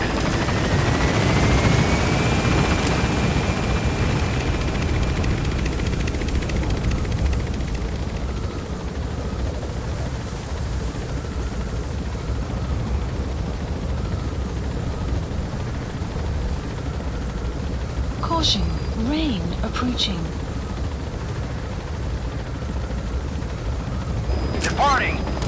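A helicopter in Metal Gear Solid V: The Phantom Pain drones steadily with a loud, constant rotor and engine roar. A game voice speaks briefly over it, and a few faint electronic chirps come near the end.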